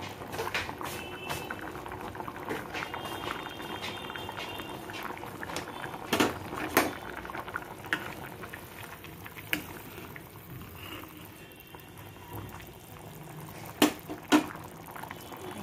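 Chickpea curry bubbles in a pot, a soft, steady simmer of popping bubbles with occasional louder plops, close and alone.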